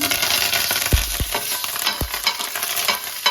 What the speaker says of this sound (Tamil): நல்லா வறுத்துச்சு பொன்முறுவலா